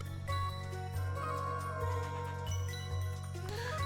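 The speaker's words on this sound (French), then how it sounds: "C'est la cloche!" A bell rings in the fantasy video game Sea of Stars, bright tinkling chimes over a sustained low musical drone, with no voices.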